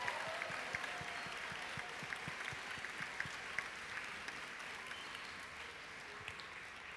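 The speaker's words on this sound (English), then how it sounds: "we should kind of give him a round of applause once again" Applause from a congregation at a grades 1–4 school Advent church service: steady, fairly distant clapping with occasional sharper individual claps, moderate and even throughout with no voices.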